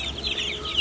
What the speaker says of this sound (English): Oh, hello, baby chicks.